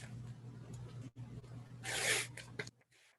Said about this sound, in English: I'm just going to tear this apart from the backing